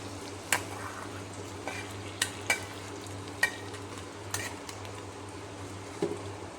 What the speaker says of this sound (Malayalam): നന്നായിട്ട് മിക്സ് ചെയ്ത് കൊടുക്കണം ഇനി നമുക്കിതിലേക്ക് കാഷ്നട്ടും കിസ്മിസും നെയ്യിൽ മൂപ്പിച്ചത് ഇട്ട് കൊടുക്കാം